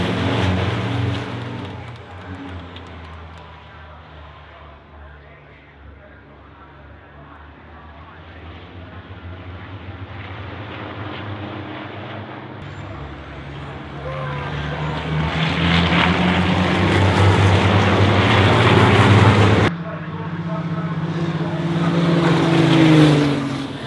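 Heavy racing trucks of about 5.5 tons run at Brands Hatch, their loud engine roar building and receding in waves as they pass, with a sharp cut partway through, under a commentator's voice.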